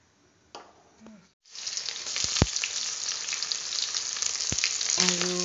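Garlic, onion, chili and whole cumin seeds hit hot oil after a brief quiet, bursting into a loud, sustained sizzle up close, broken by a few sharp clicks of a utensil.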